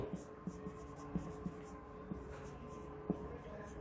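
Steady scratching and tapping of writing during a Bengali-language English grammar lecture, quick strokes recurring in an irregular rhythm underneath a teacher's continuous talk.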